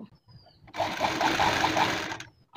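A sewing machine stitches along a blouse neck binding made from straight fabric, a steady rapid whirring run of about two seconds after a short quiet lead-in, close and alone.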